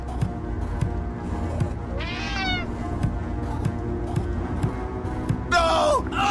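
A cat in the Friday the 13th Killer Puzzle video game lets out two loud, wailing meows, one early and one near the end, over a steady rhythmic game backdrop of low thumps.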